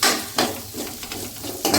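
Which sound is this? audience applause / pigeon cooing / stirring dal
stirring dal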